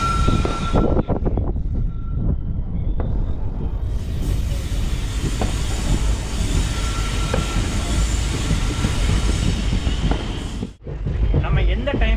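A Tambaram–Palani–Podanur special fare express train pulls out of Panruti railway station with a loud, steady close rumble of rolling wagons and wheels, faint voices underneath, and a brief dip near the end.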